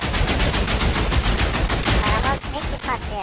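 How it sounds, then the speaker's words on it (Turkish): Minecraft TNT blocks rain down and detonate in rapid succession, a loud, dense rattle of blasts like machine-gun fire that continues throughout, with excited voices shouting over it near the end. "Arkadaşlar gökten TNT yağıyor ve oha!"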